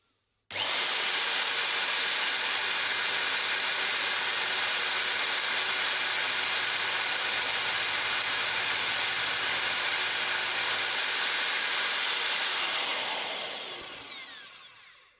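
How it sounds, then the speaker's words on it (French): An HSS cutter bit drills steadily into a hard screw, a loud continuous high-pitched grinding whine that holds for about twelve seconds before tapering off as the tool stops. "Là, je suis sur la troisième vis avec la fraise HSS"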